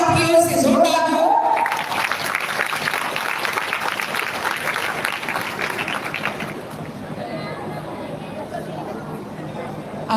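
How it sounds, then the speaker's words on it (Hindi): Audience at a welcome ceremony for a legislator breaking into loud, dense applause that carries on for several seconds, then thins out and fades, with a voice heard briefly at the start. "तालियां आपकी ओर से जोरदार हो।"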